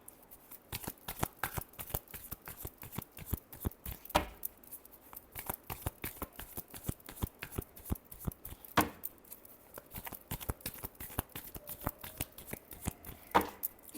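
Tarot cards are shuffled by hand in rapid, irregular bursts of crisp riffling and slapping, close and clear, with no talking.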